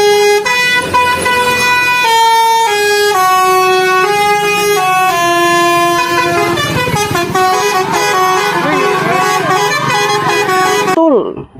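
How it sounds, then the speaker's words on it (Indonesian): A Tunggal Jaya Jupiter bus blasting a loud, continuous multi-tone musical horn, its melody shifting pitch and running nearly the whole time before cutting off abruptly at the end. "Wah, kali ini ada bus Tunggal Jaya Jupiter"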